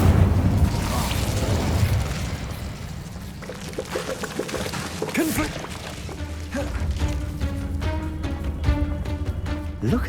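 A fiery whoosh and burst from the Incendio spell cast in Hogwarts Legacy, a loud roaring blast layered over game ambience and music, with a few crackling pops following.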